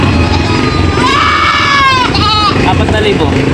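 Goats bleat in a wavering, drawn-out cry at a livestock sale, a couple of calls close by with a busy background of voices and crowd noise.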